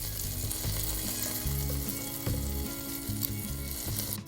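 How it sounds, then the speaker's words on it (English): Chicken pieces and french fries cooking in an air fryer at 400 Fahrenheit, giving a steady sizzling frying hiss over a constant low fan hum, close and unbroken with no talking. "So I'm going to air fry at 400 Fahrenheit for 20 minutes."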